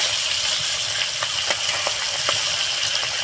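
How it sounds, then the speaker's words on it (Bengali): Singhi fish fries in a pan with a continuous bright sizzle, close and steady, dotted with small pops and spits. "মাছটাকে আমি আর একটুখানি ভাজবো ভেজে তুলে নেব"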